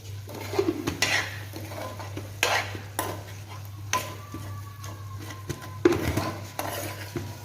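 Utensil scraping and clinking in a pan as food is mixed with chaat masala, with irregular metallic knocks and stirring scrapes over a steady low hum, close and moderately loud.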